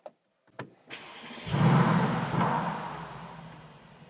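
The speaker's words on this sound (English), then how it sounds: "But first, let's start the car up." A Brabus-upgraded Mercedes-AMG C63S facelift starts up: a few clicks, then the engine catches with a loud burst that settles into a steady, rumbling idle, close by with no talk.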